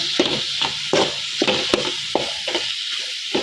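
A spoon stirs chilli powder into okra sambar in a pot, giving about seven close, rhythmic scraping strokes with a soft sizzle underneath and no talking.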